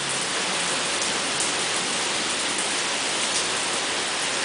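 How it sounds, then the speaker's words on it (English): Heavy rain pours down steadily during a flash flood, a dense, even hiss of falling water with no break across the whole stretch, fairly loud and close. "Look at it raining."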